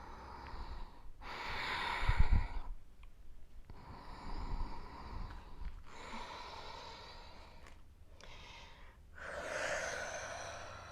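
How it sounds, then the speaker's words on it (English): Deep, long Ujjayi yoga breaths during a vinyasa class, slow audible inhales and exhales with a soft oceanic rasp, repeating in steady cycles up close with no talking. "Deep, long Ujjayi breathing."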